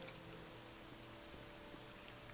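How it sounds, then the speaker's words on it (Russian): Rain falls in the video game The Elder Scrolls III: Morrowind as a faint, steady, even hiss of pattering drops that continues unbroken throughout, with no voices. "Дождь."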